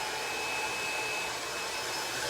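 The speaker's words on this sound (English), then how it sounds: "What's connected to the dryer is a sock diffuser, so that I can have high heat and high air." A hood hair dryer fitted with a sock diffuser blows on high heat and high air, giving a steady, loud whooshing hum that stays unchanged throughout with no talk.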